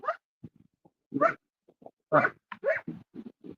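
A puppy barks and yips in a run of short, separate high-pitched barks with brief pauses between them, close and clear against quiet.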